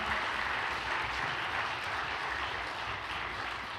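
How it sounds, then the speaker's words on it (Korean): Steady applause from a crowd, a dense wash of clapping that holds evenly for a few seconds. "다시 한번 큰 박수 부탁드립니다"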